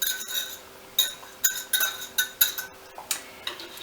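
Pumpkin is mixed into dinner roll dough in a bowl, a utensil clinking against the bowl in quick, regular strokes, close and clear with no talking.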